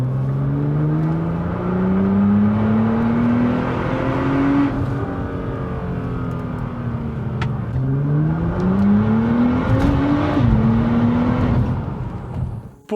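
A 560 hp Nissan GT-R R35 running without a muffler accelerates in sixth gear, its loud engine drone climbing steadily through two long pulls, then easing off near the end.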